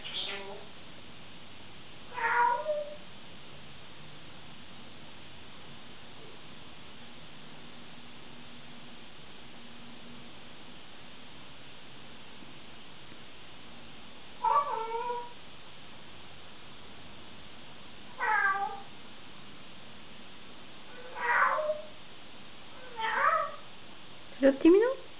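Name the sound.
parrot imitating a cat's meow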